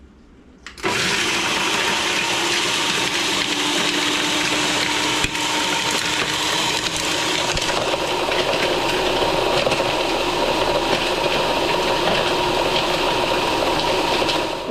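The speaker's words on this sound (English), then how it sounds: "the food processor has finished" A food processor switches on and grinds dried onion peel and skins, a loud, steady whirring roar that holds constant for over thirteen seconds after a brief quiet start.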